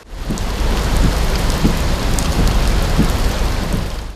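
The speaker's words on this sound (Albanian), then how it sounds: "kanë mjaftuar pak ore shiu në 24 orët e fundit që rrugët e Shkodrës të përmbyten" Heavy rain pours steadily onto the flooded streets of Shkodër, a dense, continuous wash of rainfall that stays loud and even throughout, with no voices.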